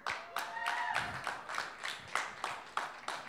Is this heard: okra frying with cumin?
no